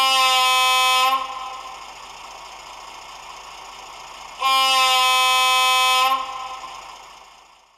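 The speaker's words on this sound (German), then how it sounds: "Mit F2 betätigen Sie das Signalhorn." Signal horn on an ESU KG230 model locomotive, sounding in two loud, steady, harmonic blasts of about a second and under two seconds, separated by a quieter engine idle hum that carries on afterward and fades.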